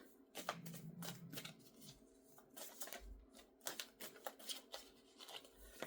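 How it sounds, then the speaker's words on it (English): Quiet, close riffling of cards being shuffled, a series of crisp flutters and soft taps repeating over several seconds. "It's double-sided, so I'm just going to shuffle with my eyes closed."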